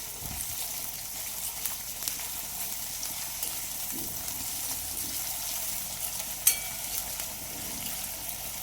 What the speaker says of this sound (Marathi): कांदा हा गोल्डन होईपर्यंत आपण भाजून घेऊया.